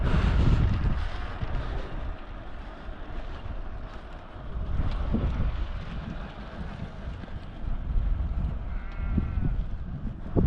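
Sheep bleat in an open rural setting along a long-distance cycling route, their calls rising now and then over steady wind rumble buffeting the microphone.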